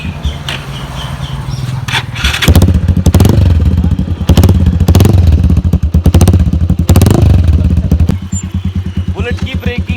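Royal Enfield Bullet 350 motorcycle engine heard up close: an idling thump, then a loud, rapid-firing rev for several seconds before settling back to a rhythmic idle, with voices talking nearby.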